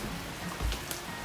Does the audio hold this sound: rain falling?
yes